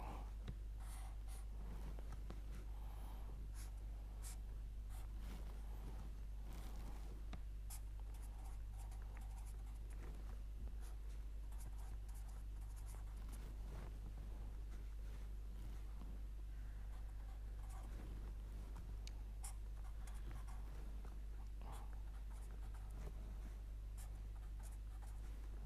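Pen writing out a chemical product by hand during a chemistry lecture on a 4+2 cycloaddition, with scratchy strokes in bursts over a steady low electrical hum and no talking.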